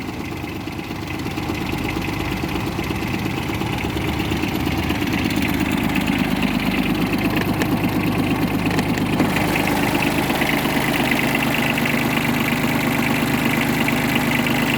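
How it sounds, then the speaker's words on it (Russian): A diesel tractor engine idling steadily nearby, a low, even rumble with a rattly throb that holds constant throughout. "Двигатель работает очень приятно."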